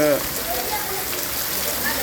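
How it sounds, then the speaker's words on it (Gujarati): Heavy monsoon rain pours down in Wankaner, Gujarat, onto a flooded road standing like a lake, a loud, steady, dense hiss that fills the whole stretch without a break. "હું વરસાદ બતાવી રહ્યો છું"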